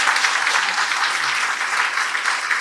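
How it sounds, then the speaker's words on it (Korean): A lecture audience at a politician's special talk claps steadily and evenly throughout, moderately loud with no pause. "제가 칭찬해 박수 한번 보내주세요."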